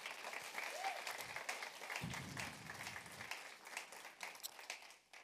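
A church congregation applauds and cheers for Jesus during a French-language sermon, sustained clapping filling the room for several seconds before tapering off at the end.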